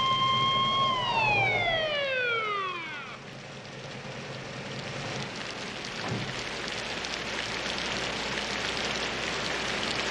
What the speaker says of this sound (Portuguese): outra ambulância de paramédicos.